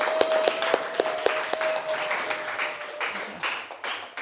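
A short round of applause from a class, a few sharp claps at first, then a scattered patter that thins out, under a steady tone.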